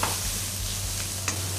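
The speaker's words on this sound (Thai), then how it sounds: "ผัดหอมแดงให้สุกก่อน" Shallots stir-fry in hot oil in a wok, a steady close sizzle with scraping stirs and a couple of sharper clinks, no talking.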